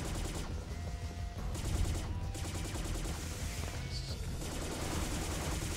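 Gunfire in the video game P.N.03 plays as a dense, continuous barrage of rapid shots and booms that fills the whole stretch without pause.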